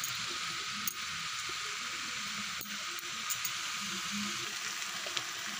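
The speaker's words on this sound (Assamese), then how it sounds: "খালি কেৰাহীতে মই এইদৰে মাংসখিনি একদম পূৰা ভাজি লৈছোঁ" Pork pieces fry dry in a wok with crushed ginger and garlic and no added oil, giving a steady close hiss of sizzling with occasional stirring scrapes and clicks.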